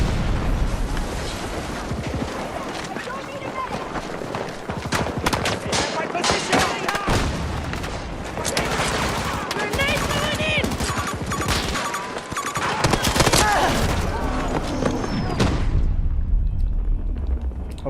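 Dense gunfire and explosions in the video game Battlefield 2042, sustained loud bursts and booms with overlapping game audio and occasional voices throughout, fading out near the end.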